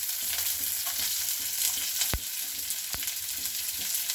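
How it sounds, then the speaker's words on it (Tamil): Garlic and onion fry with mustard seeds in a pan, giving a steady close sizzle with light stirring. Two sharp pops cut through midway, and there is no speech. "இப்போ பூண்டு, இப்போ வெங்காயம் ஆட் பண்ணுறோம்."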